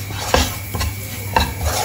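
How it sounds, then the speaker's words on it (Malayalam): A spoon scrapes and knocks against a pan twice while egg masala is mixed with spices, over a faint background hum, short and close. "ഇത്രയും ചേർത്ത് ഇത് നന്നായിട്ട് മിക്സ് ചെയ്യാം"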